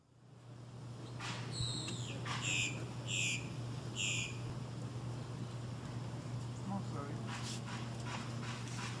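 A dog yipping and whimpering in a series of short, high, faint cries over a steady background hum.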